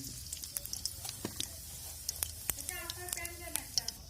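Cumin seeds sizzling in hot cooking oil in a home kitchen pan, a close, steady crackle with scattered sharp pops, ahead of onions and green chillies going in.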